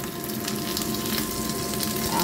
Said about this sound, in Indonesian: Kita tumis dulu bumbunya sampai harum